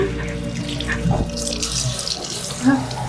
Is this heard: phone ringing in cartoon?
no